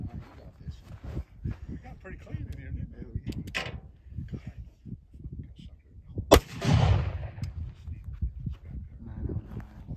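A Colt Walker black powder revolver loaded with 35 grains of 3F Swiss powder and a 260-grain conical bullet fires one sharp, loud shot with a rumbling tail. Speech is heard before and after it.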